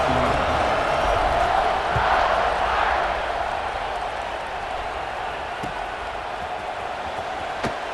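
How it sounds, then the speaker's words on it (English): Stadium crowd noise in an online ranked American football video game, a steady broad roar of fans before a kickoff that swells slightly early on and then holds, with a commentator talking over it. "this crowd now ready to get behind them"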